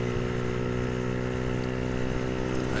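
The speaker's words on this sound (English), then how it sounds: "Let the bike get up to temperature fairly slowly." A Brixton BX 125 X motorcycle engine idles while it warms up, with a steady, close throbbing drone and no change in pace.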